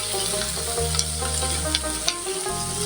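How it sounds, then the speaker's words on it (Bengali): Spring onion stalks sizzle and fry steadily in a pan while being stirred, with a few sharp scraping clicks over a continuous close hiss. "পেঁয়াজের কলিগুলো এভাবে নেড়ে চেড়ে"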